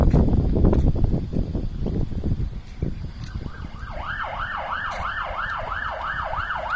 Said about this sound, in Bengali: শোনা যাচ্ছে অ্যাম্বুলেন্স।